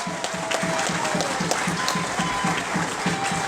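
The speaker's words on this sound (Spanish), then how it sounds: "Un aplauso para el pueblo colombiano." A crowd applauds at a political speech honoring the Colombian people, with brisk continuous clapping and a rhythmic low thumping beat pulsing underneath, fairly close and loud.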